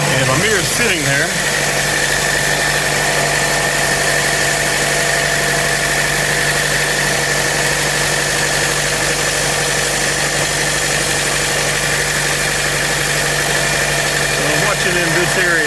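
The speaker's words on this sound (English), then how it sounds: "I'm going to go ahead and start the car." A 2012 Chevrolet Cruze turbo engine idles steadily throughout, a continuous mid-pitched hum with a low drone and faint vibration, close and constant without breaks.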